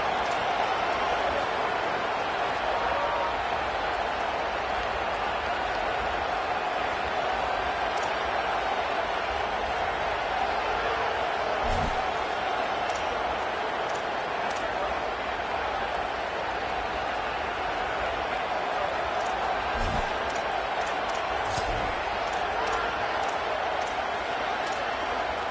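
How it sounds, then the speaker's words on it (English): A football stadium crowd roars steadily on fourth down at an LSU vs Texas game, a dense, unbroken wall of sustained noise with a few sharp thumps and claps rising through it. "And with this place rocking, the crowd forces a false start."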